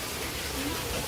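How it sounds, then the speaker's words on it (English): Heavy rain pours outdoors near a plastic Lifetime shed, model 60079, a dense steady hiss of falling water with no breaks, continuous and fairly loud for the whole moment. "But it's pouring rain"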